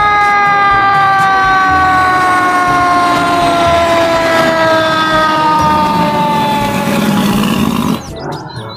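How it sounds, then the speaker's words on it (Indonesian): A toy fire truck's electronic siren wails loud and steady, a continuous rising and falling tone held close by for about eight seconds before it stops abruptly. "di sini ada mobil pemadam kebakaran"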